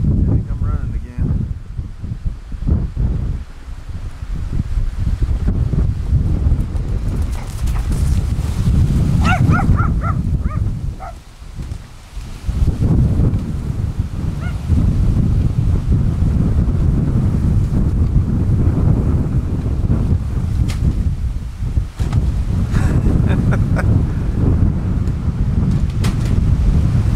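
A brutal wind storm roars and buffets the microphone almost continuously, with a brief lull partway through, while people talk and horses are nearby outdoors.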